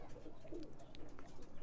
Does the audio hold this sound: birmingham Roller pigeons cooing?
yes